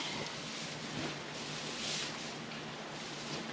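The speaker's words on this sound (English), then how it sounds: "the wind has picked up, and you can see it's picked up quite a bit" Strong wind blowing outdoors at a barn during a hot drought in California, a steady loud rushing roar that buffets the microphone with no pauses.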